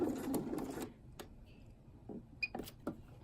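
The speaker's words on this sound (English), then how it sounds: "now I'm ready to top stitch" A sewing machine with a zipper foot runs in a short burst of rapid top stitching, then stops, followed by a few light mechanical clicks and taps nearby.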